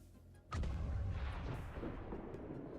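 A loud explosion in XCOM 2: War of the Chosen bursts in suddenly as a deep, booming blast, then rumbles on steadily with no voices.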